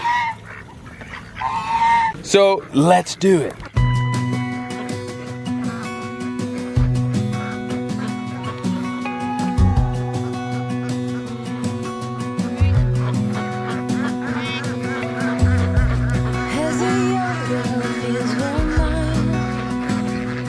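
A flock of ducks let out of their pen honk and quack loudly and continuously in an overlapping, busy chorus, with a short burst of talk just before the calls take over.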